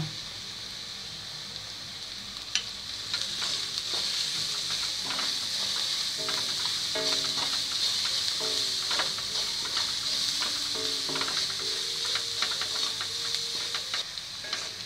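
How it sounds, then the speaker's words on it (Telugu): Onions fry in a pan with turmeric and salt for brinjal fry, giving a steady moderate sizzle and hiss broken by repeated scraping and clattering stirs of a spoon. "ఆనియన్ ఫ్రై అయిపోయినాయి"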